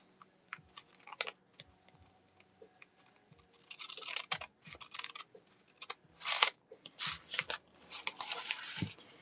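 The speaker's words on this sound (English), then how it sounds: "So I'm just cutting it a little bit." Scissors cut across the top of a plastic bag at a craft table, a series of close, crisp snips and rustling crinkles in uneven bursts, growing busier and louder toward the end.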